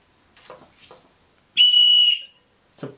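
A loud whistle from a mail unboxing gives one sharp, piercing blast lasting about half a second, very close, between quieter handling sounds and brief rustles.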